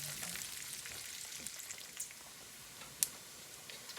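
Bacon and garlic fry in a pan with a soft, steady sizzle and scattered pops, one sharper crackle near the end, fairly quiet and without talk.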